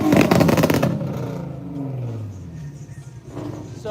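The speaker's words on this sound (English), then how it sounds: "So the 370Z Nismo, that's a pretty cool car." Nissan 370Z Nismo engine revving close by at a car meet, a loud throaty burst that falls into a descending drone and lower rumble, then picks up again at the end.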